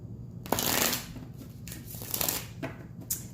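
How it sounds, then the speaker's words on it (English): Tarot cards are shuffled close up in a series of loud riffling bursts, one long rustle followed by several shorter flutters and taps. "If the shuffling's loud, adjust your volume."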